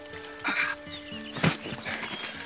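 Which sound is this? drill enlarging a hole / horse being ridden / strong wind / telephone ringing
horse being ridden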